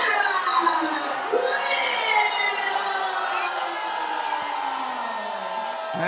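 A wrestling crowd at a CCW show roars and cheers as Matt Riddle enters, a loud sustained wash of voices with shouts and whistles rising above, continuing under an announcer's voice.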